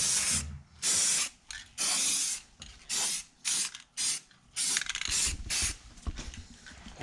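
Short bursts of spray paint hiss onto car wheels for another coat, loud and close, with several separate puffs of varying length split by brief gaps.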